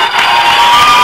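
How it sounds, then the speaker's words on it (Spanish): A dense studio audience roars and cheers with applause during a live radio comedy broadcast, loud and continuous throughout the short burst. "el aplauso del público."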